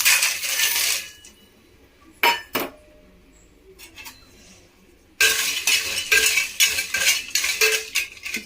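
Rock sugar (300 to 400 grams) and water go into a pot while making poppy-seed milk. A sharp clatter opens the sequence, a couple of brief knocks follow, and then rapid crystalline clinks and rattles run on after a quiet pause.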